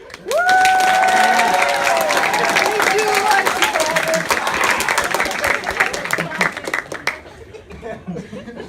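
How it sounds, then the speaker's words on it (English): An improv comedy show audience claps and laughs together in a loud burst that gradually fades, with voices and a few cheers mixed in. "Hey, if you like Evin, clap."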